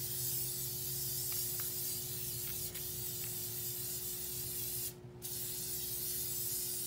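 Adhesive sprayed around a jar tumbler ahead of glitter: a loud, steady aerosol hiss runs nearly the whole time, with one brief break late on.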